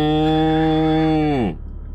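A person imitates a cow with one long, loud, steady moo lasting about a second and a half, its pitch sliding down at the end before cutting to near silence.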